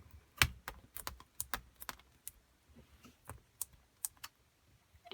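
A homemade stamping machine pressing rubber stamps onto paper gives a string of quiet, irregular clicks and taps, with close mechanical knocks spaced unevenly over a faint background.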